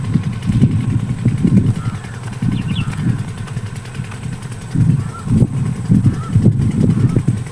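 A tubewell pump engine runs out in the village fields, with a loud, close, pulsing diesel chug whose throbbing rises and falls in uneven bursts, and no talk.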